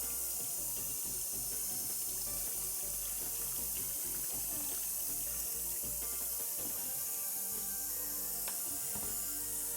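Running tap water rinses a film developing tank lid, a steady faint hiss and splash that goes on without a break as the water pours over the plastic in a sink.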